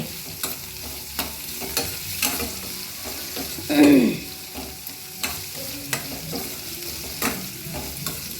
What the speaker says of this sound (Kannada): ಕ್ಯಾಪ್ಸಿಕಮ್, ಹುಳ್ಳಿಕಾಯಿ, ಕ್ಯಾರೆಟ್, ಈರುಳ್ಳಿ ಎಲ್ಲ ಹಾಕಿ ಫ್ರೈ ಮಾಡಿ